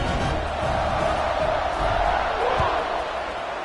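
A football stadium crowd roars steadily through the moment before a kickoff after a touchdown, a loud continuous wash of cheering, with a commentator talking over it.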